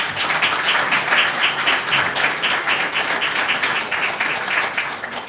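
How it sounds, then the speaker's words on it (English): An audience at an evening art and expression event in a hall breaks into steady, sustained applause, a dense wash of many hands clapping at close range that continues throughout without talk. "You all should be applauding."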